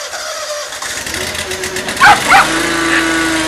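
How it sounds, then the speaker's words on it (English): A lawn mower engine runs steadily at close range, with a couple of dog barks breaking in partway through. "We got the lawnmower."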